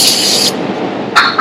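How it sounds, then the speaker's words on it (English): Cleaner sprayed from a bottle onto a rag during maintenance on a Gehl 7800, a close hiss followed by a second short spray burst, loud and alone. "Spray some more on my rag."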